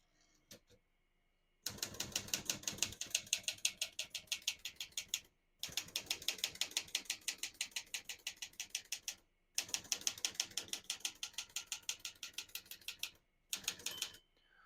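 Close, crisp typing on a 1966 Olivetti Lettera 33 portable typewriter: rapid rhythmic key strikes in three long runs and a short fourth, separated by brief pauses, with no voices.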